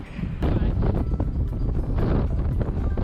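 Wind buffets the microphone in gusty, rumbling waves on an overcast, warm day outdoors near Yellowstone, loud and close throughout with no voices.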